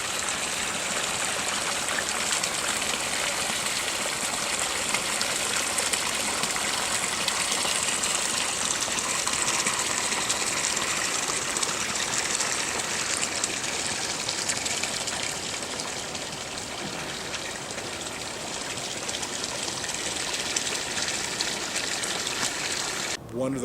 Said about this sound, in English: I was listening to the water gurgling over the rocks.